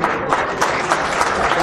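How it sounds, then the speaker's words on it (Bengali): Loud, dense applause from an audience at the grand opening of the Nobanno Utshob 2018 festival, a continuous wash of many hands clapping close by with a faint voice beneath it. "তাদের জন্য একটা জোরে করতালি"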